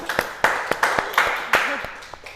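A few people clap for a contest winner, about eight distinct sharp claps in an uneven rhythm, close and fairly loud, with a voice briefly audible between them.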